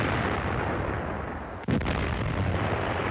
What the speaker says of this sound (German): Einschläge sowjetischer Geschütze.